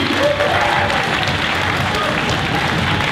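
An audience at an improv trophy final applauds partner companies with continuous, dense clapping, loud and close, with some voices mixed in.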